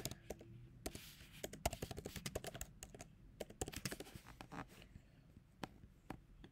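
Computer keyboard keys click in irregular bursts of quick, light taps, close and faint, with short pauses between runs of typing.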